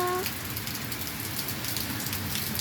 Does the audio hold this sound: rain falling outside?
yes